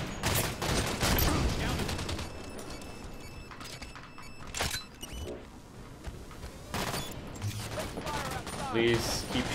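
Gunfire in Halo 5: Guardians multiplayer on the Empire map, with rapid bursts and repeated shots running throughout, several sharp louder cracks standing out over a dense, continuous layer of game sound.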